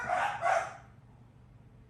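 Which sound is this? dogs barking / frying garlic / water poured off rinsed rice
dogs barking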